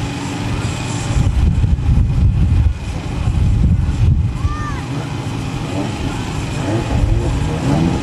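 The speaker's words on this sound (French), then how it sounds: "Cimento Porsche 914 2 litres de 1973. Un 2000 cm3 de 100 chevaux" A 1973 Porsche 914 2-litre, 100-horsepower car at a historic hill climb, its engine droning steadily and loud in the open air, with a brief passing swell and faint background voices.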